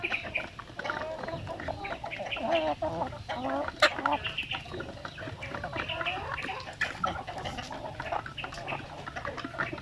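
Basilan native chickens cluck and call in a busy farm flock, with many overlapping clucks and squawks close by, fairly continuous over the whole stretch.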